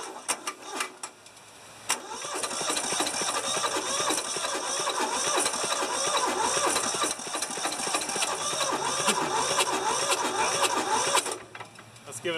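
An old rusty tractor diesel engine, idle for over 15 years, cranks briefly and then fires and runs with a steady, rough, close-up rumble that cuts off near the end.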